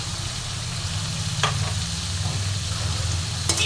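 Potato and papaya pieces fry with onion and garlic in a pan for a fish curry, a steady low sizzle with occasional stirring scrapes and a brief clatter near the end, no talking.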